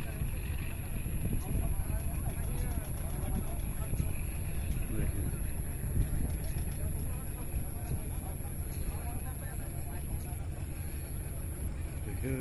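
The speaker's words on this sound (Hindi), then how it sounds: "देखिए नाव से कैसे पार होके दोस्तों आना पड़ता है उस पार से इस पार" A boat crosses the Damodar river, a steady engine drone and wind-blown rumble running continuously beneath someone speaking throughout.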